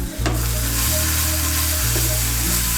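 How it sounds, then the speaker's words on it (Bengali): Salted spice masala for palak paneer sizzles loudly while it is sautéed in a pan. The hiss is dense and steady, with a low steady hum beneath it and a brief scrape at the start. "মিশিয়ে নিয়ে মশলাটাকে ভালো করে কষিয়ে নেব"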